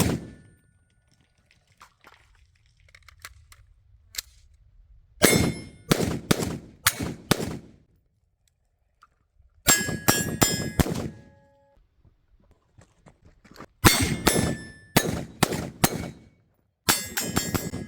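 A Sig Sauer MCX Spear LT rifle fired at a target, strings of sharp shots in quick clusters separated by pauses, each shot ringing with a metallic clang as it strikes, loud and near.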